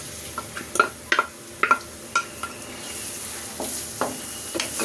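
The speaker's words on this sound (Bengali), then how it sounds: "এখন আমি পেঁয়াজ দিয়ে নিচ্ছি।" Onions dropped into hot mustard oil in a wok, with faint sizzling broken by several sharp clinks and scrapes of a spoon stirring against the pan.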